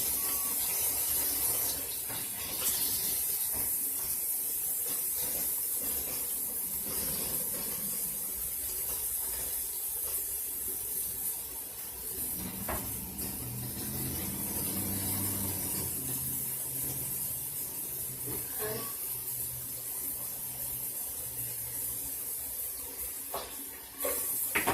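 Water runs steadily from a tap while a face is rinsed after cleansing, a continuous soft hiss and splash with occasional shifts in flow, heard alone at moderate volume.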